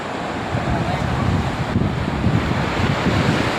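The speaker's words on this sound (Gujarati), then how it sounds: "દરિયો કુકવાટા કરે" Sea waves rolling onto a sandy shore with bathers nearby, a steady broad wash of surf and wind buffeting the microphone, loud and continuous throughout.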